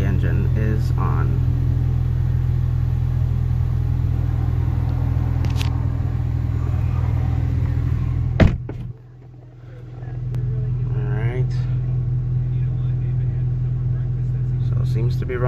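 A 2015-2017 Ford Mustang EcoBoost engine idles with the hood open, a steady low rumble heard up close, briefly dipping mid-way before resuming, while someone talks nearby.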